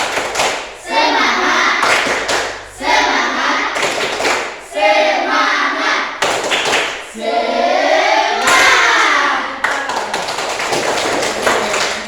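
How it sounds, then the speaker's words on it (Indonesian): Classroom students perform a rhythmic spirit clap (tepuk semangat), loud and close, in several patterned bursts of clapping and tapping separated by short pauses, with young voices chanting along. "Tepuk semangat."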